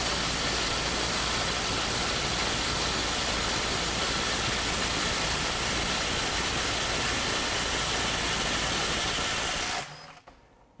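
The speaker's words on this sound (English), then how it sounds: "I can take a 3-year-old 12 volt stubby impact wrench and put it on that fastener." A 12 volt stubby impact wrench runs continuously on a fastener, a loud, steady mechanical whir with dense hammering texture that holds for nearly ten seconds before cutting off abruptly.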